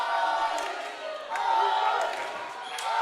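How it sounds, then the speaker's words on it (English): An Argentinian crowd at a women's foam dodgeball world championship match against Mexico cheers and chants in a sustained, echoing roar that swells and dips while a commentator talks over it. "now we hear the Argentinian crowd rallying around Viñas"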